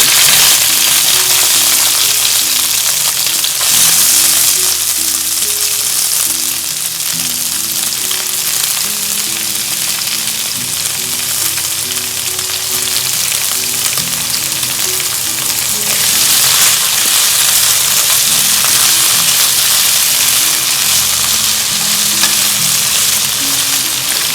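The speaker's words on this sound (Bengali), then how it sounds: "সবজিগুলো ভালো মতো করে ভেজে নেব, লবণ আর ব্ল্যাক পেপার দিয়ে।" Vegetables for a chicken stew fry in a pan with salt and black pepper, giving a loud, continuous sizzle with occasional stirring scrapes throughout.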